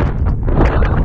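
Gusty wind on a mountain stretch of the Appalachian Trail buffets the microphone with a close, continuous, rough rumble that lasts about a second.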